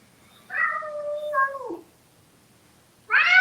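A cat meows in a long, drawn-out, wavering call, then starts another meow after a short pause, close and clear over a quiet room.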